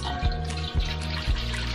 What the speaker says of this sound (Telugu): అందులోకి ఒక చెంబుడు నీళ్ళను వేసుకున్నాను